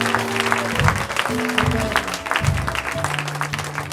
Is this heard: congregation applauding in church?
yes